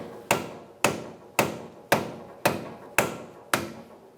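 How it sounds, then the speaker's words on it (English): A rubber mallet whacks a stuck wheel axle on a 2014-2019 Kia Soul during a front wheel bearing job, seven sharp, evenly spaced strikes about half a second apart, each ringing briefly before the next. "You can use a rubber mallet and give it a good whack"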